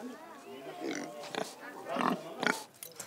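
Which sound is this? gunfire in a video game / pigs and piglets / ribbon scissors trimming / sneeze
pigs and piglets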